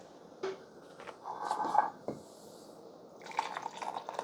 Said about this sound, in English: you'll get those drips if you don't go to close